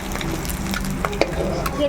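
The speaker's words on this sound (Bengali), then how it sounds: "কড়াইতে তেল দিয়ে দিচ্ছি। ডিমগুলো ভেজে নেব।" Cut eggs coated in turmeric and salt fry in oil in a kadai, giving a brief, moderate sizzle with a few sharp pops and clicks close by.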